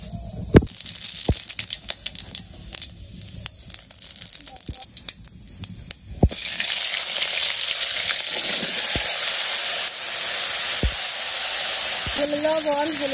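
Bay leaf and cumin seeds crackle and sizzle in hot oil in a wok for a village-style fish curry, a quiet start with scattered pops before a loud, steady hiss takes over midway.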